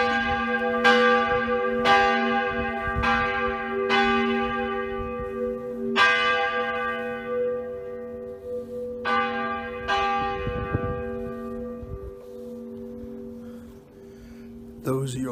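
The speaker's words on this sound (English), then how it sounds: "Those are your bells for today." Church bells in Europe ring out in a series of loud, resonant strikes spaced a second or two apart, each leaving a long humming decay, with faint street sounds and brief voices beneath.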